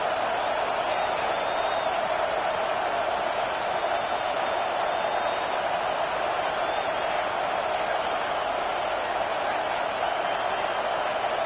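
A home crowd roars continuously through a video game football match, a dense, even wash of cheering that holds at a loud, constant level throughout.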